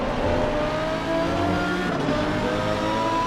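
A Lamborghini Gallardo GT3 race car at Suzuka in a racing video game gives a steady, loud engine drone held at high revs for a few seconds, with other cars' engine noise blended underneath and no voices.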